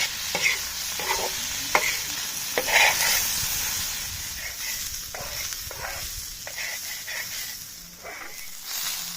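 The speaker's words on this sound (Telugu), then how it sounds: "మంచి బ్రౌన్ కలర్ వచ్చేదానికి ఫ్రై చేసుకోవాలి లివర్ని కూడా" Chicken liver fries on an iron pan in street style, making a continuous loud sizzle and hiss. Intermittent scraping and tapping of stirring sound through it.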